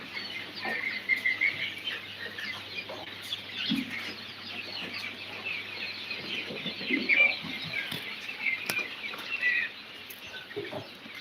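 Chicks at a poultry farm and hatchery, a dense, continuous chorus of high-pitched cheeping and peeping from many birds at close range, with no talk over it.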